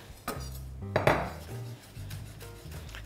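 A knife strikes a board repeatedly while fresh dill leaves are finely chopped, giving close, crisp, irregular clacks with no speech.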